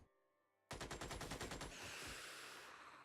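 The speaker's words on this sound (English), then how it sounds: "Go ahead and open up with the machine gun because it may be able to suppress." A machine gun fires in Xenonauts: after a quiet moment, a single loud burst of about a dozen rapid, evenly spaced shots, fading into a lingering rumble with no talking.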